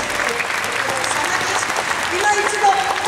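Dense, steady applause from a large audience at a Polynesian show, marking a hula dancer's farewell last-stage ceremony, sustained and full throughout with faint voices mixed into the crowd.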